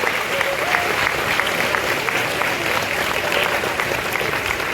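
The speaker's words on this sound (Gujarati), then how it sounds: "આપણે સૌ પણ તેઓના ભક્તિભાવને તાળીમાંથી વધારીશું" A large devotional gathering claps for gurukul students at Mahant Swami's arrival in Gondal, producing loud, dense, continuous applause from many hands that swells slightly and carries on steadily without pause.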